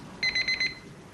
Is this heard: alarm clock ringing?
yes